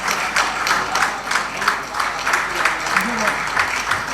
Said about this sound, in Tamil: ஸோ இவரை வந்து நீங்கள் கைத்தட்டி